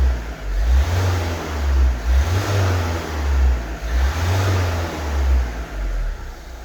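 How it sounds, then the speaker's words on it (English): Repeated revving of an Alfa Romeo Giulietta turbo diesel engine with a turbo boost fault, rising and falling about four times in steady swells, loud and close. "Give it a little bit of a rev"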